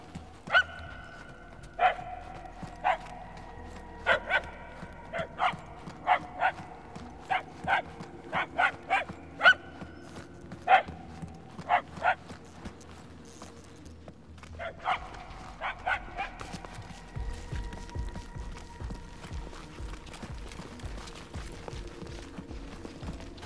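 Dog in the Guardians of the Galaxy video game barking in irregular bursts of sharp yips and woofs, moderately close, with pauses between groups and faint footsteps and ambient game sound.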